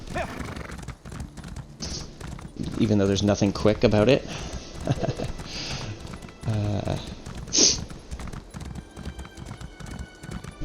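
Horse hooves clip-clop in a steady rhythmic patter while riding in The Elder Scrolls Online, the gait continuing close and clear throughout as someone talks over it.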